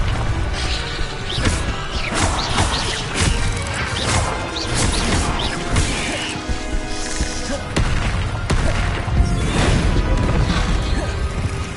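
The Bombarda blasting spell goes off in Hogwarts Legacy amid busy game combat: repeated crashing impacts and mechanical clatter, loud and dense, with several sharp bursts over a continuous rumble of effects.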